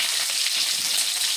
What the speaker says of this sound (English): Now we're going to add the rice.